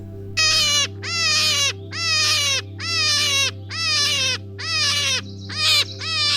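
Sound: hare call

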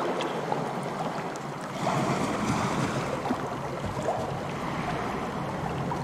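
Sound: layered tabletop game water sound effects on a ship

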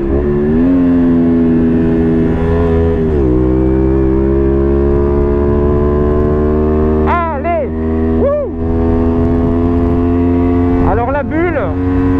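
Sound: Honda Varadero 125 motorcycle revving above 9000 rpm

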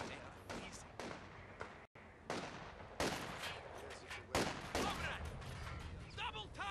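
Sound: gunfire in the video game Company of Heroes 2

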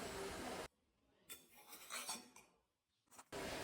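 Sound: stirring cheese mixture in bowl

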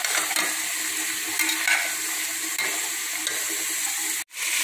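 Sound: vegetables sautéing in oil for sambar rice

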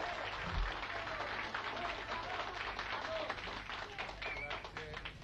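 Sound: applause from sports fans in a stadium

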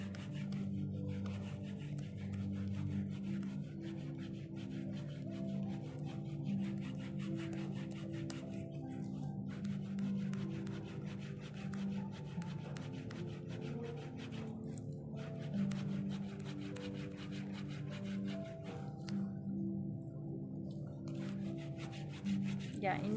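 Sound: scrubbing hard skin off feet during pedicure

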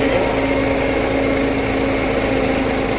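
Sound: tractor engine running

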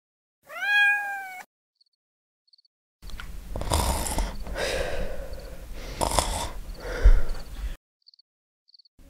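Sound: kitten meowing

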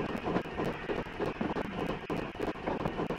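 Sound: train sound in Train Simulator video game

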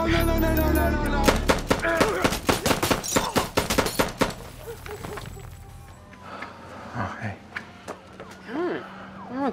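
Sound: gunfire in a TV show scene

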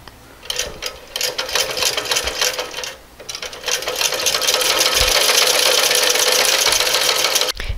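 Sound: sewing machine stitching kurti skirt to top portion

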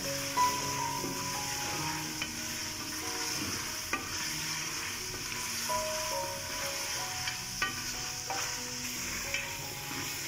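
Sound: desi chicken sizzling while being fried (bhunai) in karahi

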